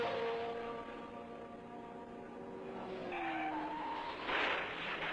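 A 1970 Ontario 500 race car skids with a long tire squeal and then hits the wall, heard as a sustained screech over engine roar, followed by a brief burst of harsher noise near the end.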